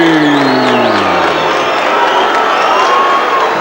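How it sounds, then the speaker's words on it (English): A large boxing arena crowd reacts to Iran Barkley's ring introduction with loud, sustained cheering, shouting and whistles filling the hall continuously throughout. "the crowd are reacting to it"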